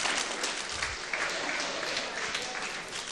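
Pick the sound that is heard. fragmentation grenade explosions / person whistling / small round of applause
small round of applause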